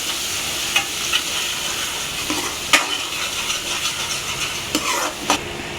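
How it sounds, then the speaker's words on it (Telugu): A chicken pickle mixture with ginger paste frying in a pan, a close, continuous sizzle broken by occasional sharp scrapes and knocks of a spoon as it is stirred, with no voices. "బాగా బాగా ఫ్రై అవ్వాలి అల్లం స్మెల్ అనేది పోయిన దాకా ఫ్రై అవ్వాలి"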